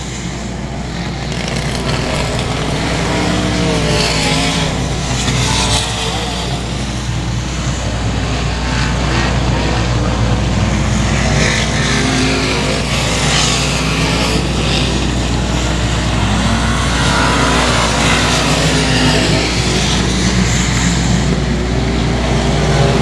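Race cars roaring around the oval at 281 Speedway on the final lap of a stock car race, a loud, continuous engine drone with pitch swells as cars pass close by.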